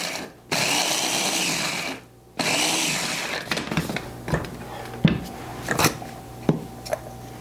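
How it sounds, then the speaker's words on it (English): A mini prep food processor grinds freeze-dried banana pieces into powder, first in two loud sustained whirring runs, then in short choppy pulses with rattling and clattering of the dry bits. "let's put these in this mini prep food processor and just pulse it a few times"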